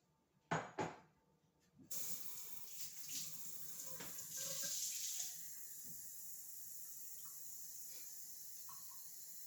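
Cold tap water rushing into an old Tupperware pitcher after a couple of clinks, a steady close hiss of running water that swells and then eases off.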